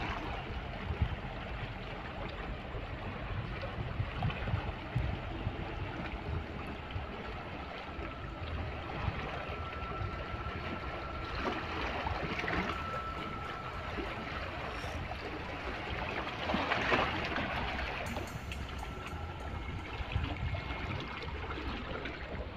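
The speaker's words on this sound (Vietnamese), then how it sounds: "nước đang lớn dần và đang sóng dần" Rising sea water with building waves makes a faint, continuous wash and swirl, with brief slightly louder surges and no talk.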